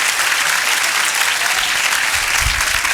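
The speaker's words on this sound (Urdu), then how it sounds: "زوردار تالیوں کے ساتھ بشپ جی کا شکریہ ادا کرتے ہیں۔" Loud, dense applause fills a church after a bishop's confirmation address, a steady wash of clapping with no voices.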